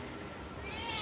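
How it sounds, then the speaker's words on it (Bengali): A pet cat gives a single short meow that rises in pitch toward the end, fairly faint and close, over a quiet room background. "লাল এবং কালো ভিতরে একটা বিড়াল,"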